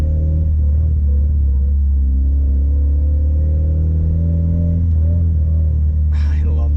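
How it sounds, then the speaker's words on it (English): A Mitsubishi Evo pulls in first gear, a steady loud low engine drone and rumble with a faint transmission whine riding on top, heard from inside the car. "Just listen to this first gear whine."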